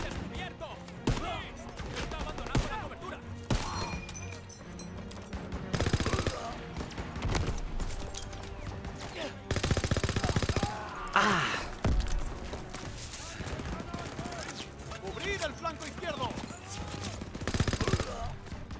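Rapid bursts of Call of Duty WW2 gunfire crackle repeatedly, with loud automatic volleys and scattered shots over a busy, noisy battle soundscape.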